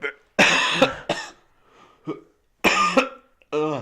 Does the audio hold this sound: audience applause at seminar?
no